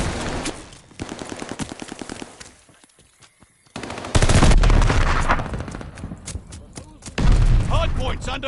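Video-game gunfire at a hard point in Call of Duty Vanguard: loud bursts of rapid automatic fire and heavier booms, broken by a brief near-silent pause, with game voice callouts over the shooting.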